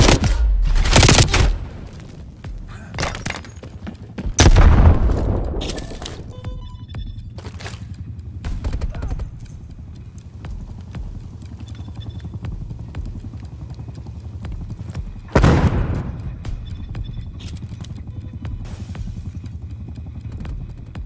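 Bursts of gunfire in Call of Duty: Black Ops Cold War: a loud volley opens, heavy blasts follow around the five-second mark, and another burst comes later, with a steady low engine-like drone underneath throughout.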